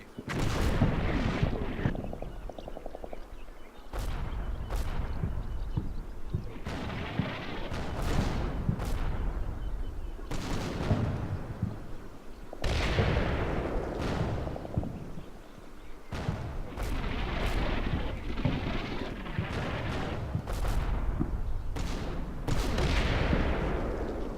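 M36 Jackson tank destroyer firing HE rounds in Combat Mission, sounding as a string of loud, sharp booming blasts at irregular intervals, each decaying into rumble, over continuous battlefield noise with no voices.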